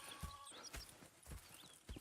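Horse hooves clip-clopping in the video game Red Dead Redemption 2, a steady run of close hoof strikes at a walking rhythm with no other sounds.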